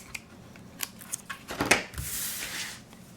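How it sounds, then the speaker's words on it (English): Card is cut along score lines while making a 3D envelope treat holder, with a few sparse, close snips and crisp paper rustles, a sharper crackle partway through, all quiet and without talk. "I'm going to go around each side and cut along the score lines until I have a square"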